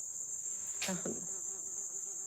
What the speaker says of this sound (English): it's like that bee is back again